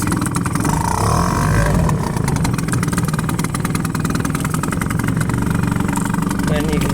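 A 1984 Mariner 4hp outboard motor runs steadily and close by while being shifted through neutral, forward and reverse, its engine drone continuous and fairly loud for the whole stretch.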